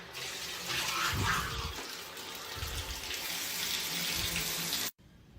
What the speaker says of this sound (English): What is that noise? Oh, the shower, you turned it on?